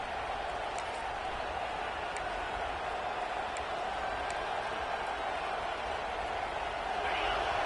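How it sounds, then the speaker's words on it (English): A broad, steady roar rises from a packed stadium crowd at a college football game between Florida and Oregon. The distant, continuous wash of noise holds at an even level throughout, with faint whistles poking through. "This crowd trying to make life miserable for this offense."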